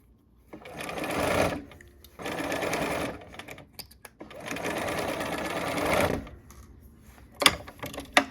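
A sewing machine stitches fabric for a quilt block in three separate bursts, a fast mechanical whir with clicking, each stopping in between, and a few sharp clicks at the end.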